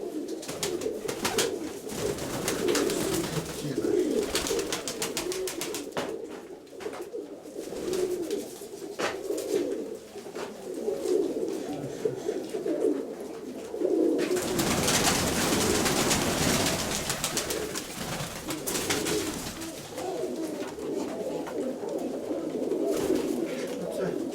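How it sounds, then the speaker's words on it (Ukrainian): Pigeons coo in a loft of fancy ornamental pigeons, with soft continuous cooing and bird calls close by, and people talking intermittently over them. "У голубнику ж є голуби?"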